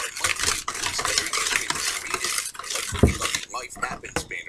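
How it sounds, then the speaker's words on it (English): Blueberry muffin batter is stirred in a bowl with a utensil, close scraping and sloshing strokes in an irregular rhythm, with a louder clunk near the middle. "So now I'm going to mix this around."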